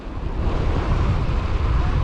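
Steady low rumbling wind buffeting a microphone while road cycling, continuous and fairly loud with no speech over it.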